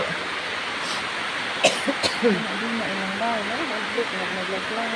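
A few short coughs sound close by, a quick cluster of harsh bursts over steady background hiss, followed by a murmuring voice.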